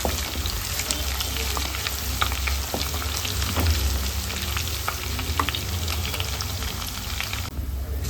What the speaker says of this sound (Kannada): ಬೆಳ್ಳುಳ್ಳಿ ಚೆನ್ನಾಗಿ ಫ್ರೈ ಆಗಬೇಕು.